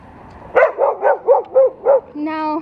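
A nearby dog barks six times in a steady, evenly spaced series, each bark loud and clear, followed by a brief drawn-out whine or tonal note at the end.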